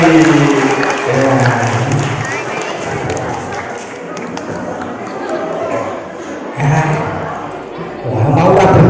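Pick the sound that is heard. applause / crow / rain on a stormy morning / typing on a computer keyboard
applause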